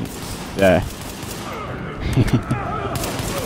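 Pistol gunfire in the video game The Division: a sharp shot stands out early, followed by a cluster of quieter reports a moment later, set against steady game ambience.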